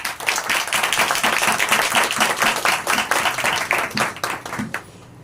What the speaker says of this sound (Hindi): खुदावंदों के खुदा, बादशाहों के बादशाह के लिए जोरदार तालियां बजाएं।